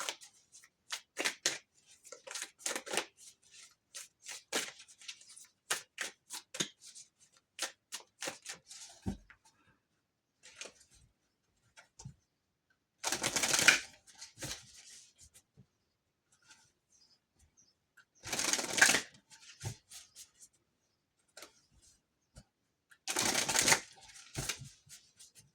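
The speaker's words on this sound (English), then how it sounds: "let me pull some cards for y'all." Tarot cards being shuffled and pulled by hand, rapid close riffling flurries followed by separate longer shuffle bursts spaced through quiet gaps.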